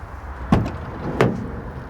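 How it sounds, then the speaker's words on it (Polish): The door of a Renault Trafic SpaceClass Grand van opens with two soft, close mechanical clunks about a second apart, quiet and unhurried with no talk. "Leciutko otwierają się drzwi."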